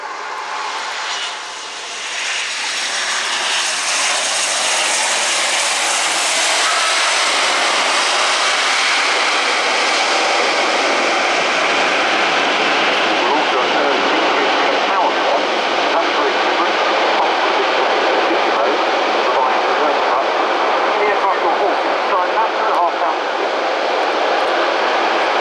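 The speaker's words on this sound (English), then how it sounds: "we'll see a full stop landing aided by the powerful automatic brakes" A German Air Force Airbus A400M military turboprop with four TP400 engines descends steeply to a full-stop landing at the RIAT 2025 air show, a loud, sustained engine roar that swells and holds close by throughout.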